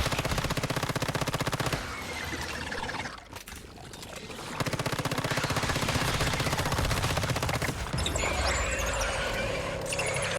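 Rapid automatic gunfire in the video game Once Human, aimed at a spider boss: dense, loud bursts of repeated shots, briefly interrupted by a short lull with a muffled blast, then resuming as sustained firing.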